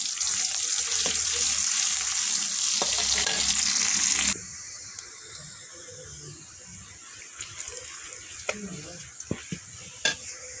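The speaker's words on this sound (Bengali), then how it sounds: "পেঁয়াজটা একটু ভেজে নেব।" Chopped onion sizzles loudly in mustard oil in a home kitchen pan for pasta, with stirring, then the hiss drops abruptly and quieter sizzling continues, broken by a few utensil clicks and taps.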